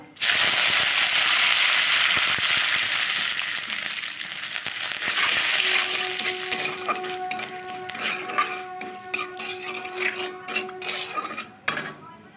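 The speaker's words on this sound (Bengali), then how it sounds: "এবার যে কারি পাতাটা ভাজা হয়ে গেছে" Curry leaves with a pinch of salt sizzling in hot oil, a steady bright crackle at first, then joined by metallic clinks and scraping of a utensil against the pan toward the end.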